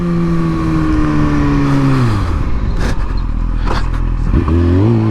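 A Kawasaki Ninja motorcycle engine drones loud and close, its pitch sliding down as the rider eases off, then revving back up sharply near the end, with wind buffeting over it.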